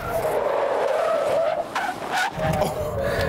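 Range Rover tyres skidding and squealing through a sharp corner with stability control off, a loud sustained screech over engine roar that wavers as the front brake grabs, close and continuous.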